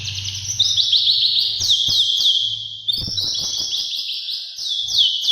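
A young wild magpie-robin chirps close by in rapid, repeated high tweets and short rising phrases, loud and nearly continuous, with faint knocks beneath.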